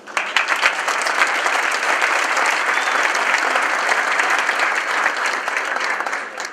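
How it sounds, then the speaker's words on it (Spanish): A large conference audience claps steadily and loudly, dense applause that holds evenly for several seconds and then starts to taper off. "Así que un aplauso para ellos."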